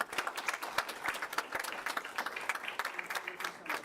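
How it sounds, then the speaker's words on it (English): Audience members at a special city council meeting give a big round of applause for honorees being congratulated, with sharp, busy clapping that holds steady throughout and voices mixed in. "So how about a big round of applause?"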